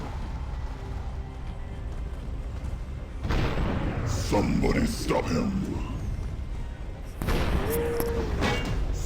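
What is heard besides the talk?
cannon fire in a video game battle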